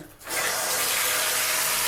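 Hot water gushes steadily from a bathroom tap after a brief quiet moment, a loud, close, continuous hiss of running water.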